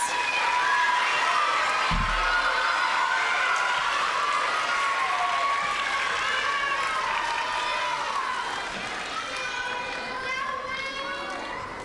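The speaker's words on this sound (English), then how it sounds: "let's give them a round of applause" A school awards-ceremony crowd applauds and cheers steadily throughout, with scattered young voices calling out over the clapping and a sharp thump early on.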